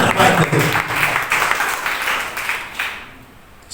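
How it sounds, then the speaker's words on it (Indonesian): A church congregation claps through a sermon on evangelism. The applause sounds close and fairly dense at first, then thins and fades toward silence, with no speech over it. "Beri tepuk tangan terbaik itu."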